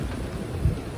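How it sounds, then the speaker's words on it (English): Rain during Storm Ciara in a flooded valley near Carlisle, a brief steady hiss of rainfall with a low wind rumble and one soft thud, no voices. "It's raining."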